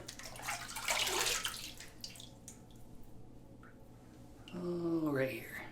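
Tap water runs briefly to rinse after a wet shave, a short splashing burst near the start, then fading under room noise before a voice speaks near the end.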